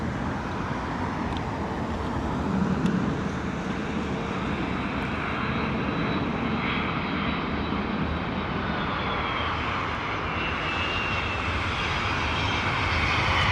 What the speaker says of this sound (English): Boeing 767-300, United 940 coming in.